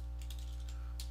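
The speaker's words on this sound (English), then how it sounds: "I'm just typing text just to kind of represent" Typing on a computer keyboard produces a few quick, light key clicks in short bursts over a steady low electrical hum.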